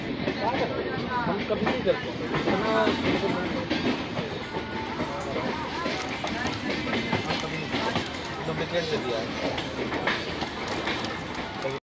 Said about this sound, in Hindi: हमारे ट्रेन को हावड़ा से निकले हुए 1-2 मिनट भी नहीं हुआ